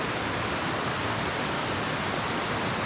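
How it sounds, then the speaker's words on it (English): A waterfall in Michigan's Lower Peninsula roars as a steady, broadband wash of falling water, close and constant throughout without any voices. "So this is an official waterfall."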